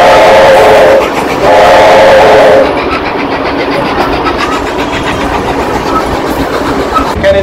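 Steam train rolling along at the NSW Rail Museum, heard from on board: a loud, continuous rumble and rattle of carriages with rhythmic clatter, rising then easing to a steadier roar.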